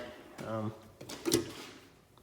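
A drawer on a US General tool cart from Harbor Freight slides open with a short metallic rolling rasp and rattle, followed by a light clunk, while someone talks over it.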